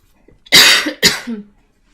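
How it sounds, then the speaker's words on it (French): Two sharp, loud coughs close to the mic, the second followed by a short throaty tail, from a player during a French-language playthrough of the game The Occupation. "Faut que je tousse."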